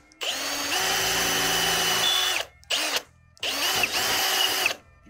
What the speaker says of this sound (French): Hop, perçage.